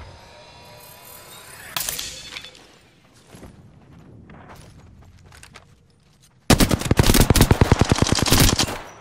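Apex Legends gunfire: a few scattered shots over quiet background, then a loud, dense burst of rapid automatic fire that keeps going to the end.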